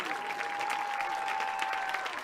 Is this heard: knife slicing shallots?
no